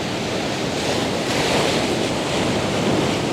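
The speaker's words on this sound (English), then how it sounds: "And then when those waves come crashing," Ocean waves crashing on rocks at Moffat Beach, a loud continuous roar of surf with some wind noise on the microphone.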